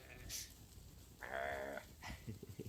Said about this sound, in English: Look at all those happy sheep.